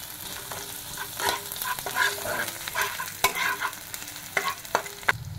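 Bay leaves dropped into hot oil with onion for a mushroom curry, sputtering and crackling in uneven bursts, punctuated by sharp spoon taps and stirring scrapes against the pan.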